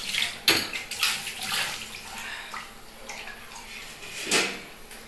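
Water poured into a pot of chicken curry being cooked in a village kitchen, a splashing, gushing pour with a few utensil knocks, fairly close and steady, with no talk over it.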